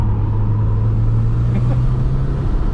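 A car on road tires lapping the race track at Canaan Motor Club in Canaan, NH, its engine a steady low drone heard from inside the cabin.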